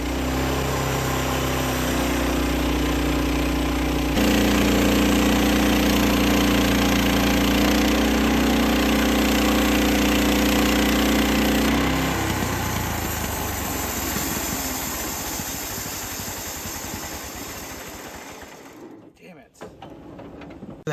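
A gas-powered sawmill engine drones loud and steady while cutting a red oak slab, the pitch shifting as the blade bites and then winding down near the end, with someone talking over it.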